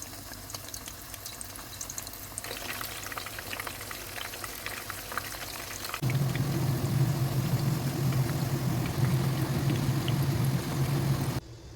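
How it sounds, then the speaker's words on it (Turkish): Quiet kitchen sounds, then a loud, steady sizzle and crackle of eggplant frying in plenty of hot oil takes over halfway through. "Bol kızgın yağda güzelce iki taraflı kızartalım."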